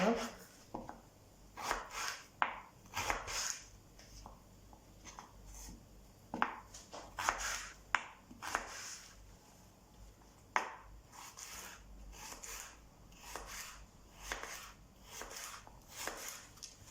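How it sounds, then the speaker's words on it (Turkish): A knife dices carrots into cubes on a board in quick irregular bursts of sharp taps, close and distinct, with short pauses between runs. "Havuçlarımı Şöyle küp küp doğrayacağım"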